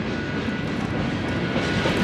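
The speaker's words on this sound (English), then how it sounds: "Look at the choo-choo train." A train passes close by outdoors, making a loud, steady broadband rumble that stays even for about two seconds, with no voices.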